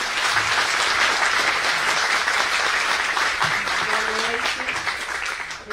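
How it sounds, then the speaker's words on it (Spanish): Audience at a political party debate panel gives a speaker a strong round of dense, steady applause that holds loud for several seconds, with a few voices heard beneath it as it starts to fade. "un fuerte aplauso para Sara Sarmiento"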